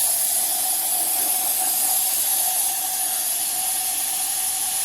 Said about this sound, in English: Okay, so now there's brake cleaner in there.